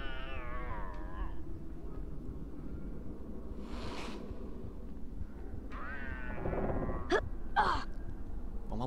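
Mrs Norris the cat from a Harry Potter video game makes several close, fairly quiet calls over a low background hum, with a breathy hiss-like burst between them.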